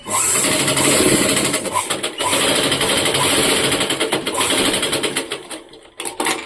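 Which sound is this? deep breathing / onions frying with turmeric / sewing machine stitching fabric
sewing machine stitching fabric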